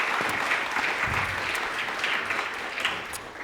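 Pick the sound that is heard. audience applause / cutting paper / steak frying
audience applause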